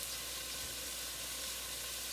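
Meat browns in a pan before garlic goes in, giving a faint, steady sizzle that runs unbroken and alone at low level.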